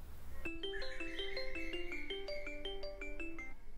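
An incoming-call ringtone on a mobile phone plays a repeating electronic melody of bright, evenly spaced tones, fairly quiet and alone, starting abruptly and continuing to the end.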